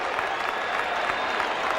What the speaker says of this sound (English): Some are cheering and some are praying.